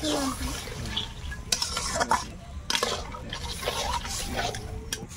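Crab and prawn curry stirred in a pan after a little water is added, with scraping utensil strokes and occasional clinks against the pot over a steady wet bubbling, close and moderately loud, no talking.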